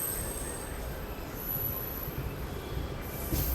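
A hydrogen train undergoing a braking test at Sonipat junction gives a steady, close rolling rumble with a thin high wheel squeal running through it.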